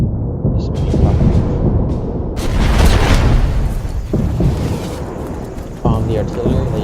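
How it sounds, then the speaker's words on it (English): Artillery in the World War II shooter game Day of Infamy booms and thuds repeatedly, loud and rumbling amid other battle noise, with someone talking over it. "The artillery that you can hear now."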